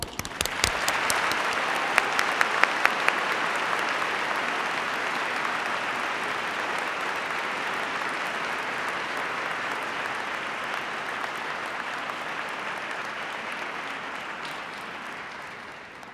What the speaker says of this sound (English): And now, please applaud.